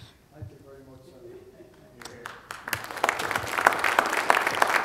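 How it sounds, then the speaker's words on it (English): An audience applauds an Irish poet after a reading, the clapping starting faintly after a couple of seconds and swelling into steady, moderately loud applause, with a voice briefly audible at the start. "One more round of applause for Desmond."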